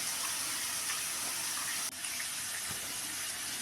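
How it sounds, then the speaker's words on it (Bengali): Water is poured into a pressure cooker for khichuri, giving a steady, faint gushing splash that runs throughout with a slight change midway. "এবার প্রেসার কুকারে আন্দাজ মতো জল, তারপরে ভেজানো চালগুলি দিয়ে দেবো"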